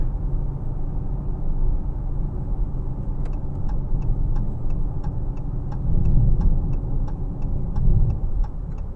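A 2022 Dodge Challenger R/T Scat Pack 392 accelerates out of a corner, heard from the cabin as a steady deep engine rumble that swells twice. A regular light ticking runs alongside from partway through.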